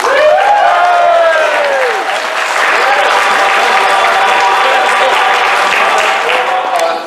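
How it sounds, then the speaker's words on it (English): A large audience claps loudly and continuously, a dense wall of applause with some cheering mixed in, lasting throughout. "give a big round of applause"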